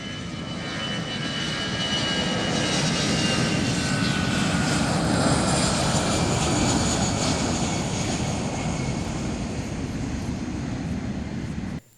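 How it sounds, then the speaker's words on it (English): A private plane departing Cheddi Jagan International Airport, its aircraft engine roaring loud and steady for the whole stretch before cutting off abruptly at the end, with no voices. "His private plane departed the Chedi Jagan International Airport at approximately 9:45 hours"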